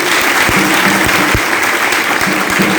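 A church congregation bursts into loud, sustained applause, dense clapping filling the space from start to end with a few sharper claps standing out near the front.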